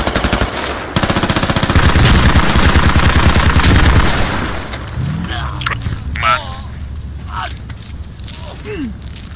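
In the video game Squad, a dense burst of rapid automatic gunfire rattles loudly for several seconds, then drops to scattered shots while players shout and talk over it.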